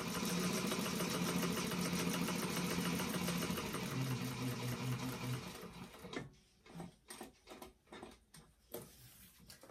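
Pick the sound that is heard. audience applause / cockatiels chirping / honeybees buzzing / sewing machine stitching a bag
sewing machine stitching a bag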